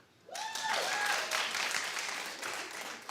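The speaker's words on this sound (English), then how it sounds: "Clap." A studio audience breaks into sudden clapping that swells quickly and holds as a steady, moderately loud wash of applause, with a few whoops rising over it.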